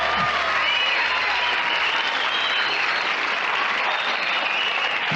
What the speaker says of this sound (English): Full applause.